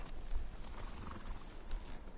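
A horse in Ghost of Tsushima clops its hooves steadily at close range, with a soft whinny blending into the dense game ambience.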